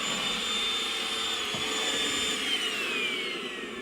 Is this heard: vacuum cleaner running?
yes